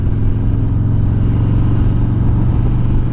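A 2020 Harley motorcycle with slip-on exhaust holds third gear at 3000 RPM, a loud, close, steady engine drone with a deep pulsing rumble throughout.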